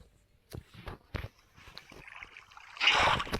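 Water is poured in the Minecraft video game: a short, bright splashing rush comes near the end, after a few soft scattered clicks and taps over a quiet background.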